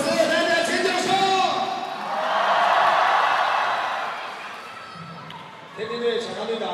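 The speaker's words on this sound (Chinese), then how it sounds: "天津队换人，一号下，十一号上，掌声送给一号队长李莹莹。" Applause and crowd noise swell in an arena at a 2024 Tieren Cup women's volleyball match between Tianjin Bohai Bank and Liaoning Donggang Strawberry as Tianjin's captain is substituted off, rising to a broad wash mid-clip before easing.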